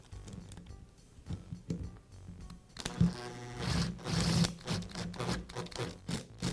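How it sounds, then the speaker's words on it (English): A screw is driven by hand through a ground wire eyelet into the housing of a DeWALT router under repair, heard as close, faint scraping and ratcheting turns that grow louder and denser partway through. "I'll install the screw through the eyelet first, and then secure it to the housing."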